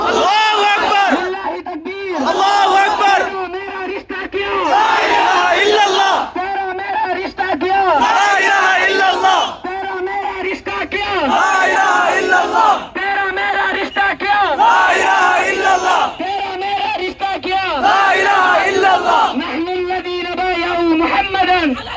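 A large protest rally crowd roars Allahu Akbar in unison, again and again, in loud rhythmic bursts answering a takbir call, each shout swelling and dropping in a steady chant.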